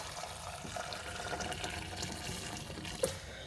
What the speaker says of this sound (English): So I'm going to be adding some water.